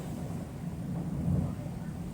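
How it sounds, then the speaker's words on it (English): Thunder from a storm outside rumbles as a low, continuous roll that swells slightly in the middle, heard from indoors at moderate loudness. "Still thunder."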